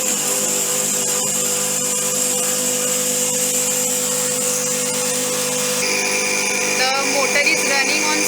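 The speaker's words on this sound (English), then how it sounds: "Motor is running on synchronous speed" A synchronous AC motor in a dissectible teaching machine setup runs steadily at 3000 rpm, a continuous tonal hum with a whine that holds level throughout and shifts slightly in pitch near the end.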